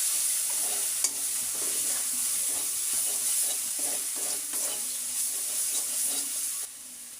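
Shrimp stir-fried in a spice masala for a Malabar spinach curry: a steady, close sizzle under repeated spatula scrapes and stirring strokes throughout, with no talking.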